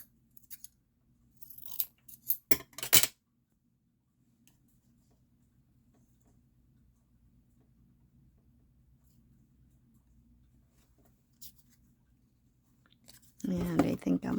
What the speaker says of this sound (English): I'm going to snip a little bit of it off.